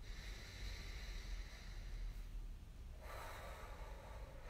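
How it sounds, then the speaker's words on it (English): One deep breath, close and faint, with a long drawn inhale and then a softer airy exhale over a low, steady background hiss. "Taking a nice deep breath."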